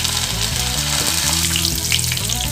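Spices crackling in hot oil for mutton pallipalayam make a dense, continuous close sizzle that stays even for the whole short stretch, with music playing underneath.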